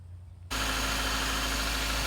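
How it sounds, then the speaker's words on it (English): A 1996 Toyota Corolla that has trouble starting in wet weather cranks and catches abruptly, then settles into a loud, steady idle with a constant rumbling hum close by. "Okay, well, the engine's running."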